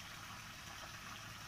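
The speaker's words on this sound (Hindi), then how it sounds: "तीन पाइप लगा हुआ है जिसमें से पानी निकल रहा है" Water pours steadily from three pipes at Turi waterfall beside a Shiva temple in Jashpur, a faint continuous splashing rush with no talk over it.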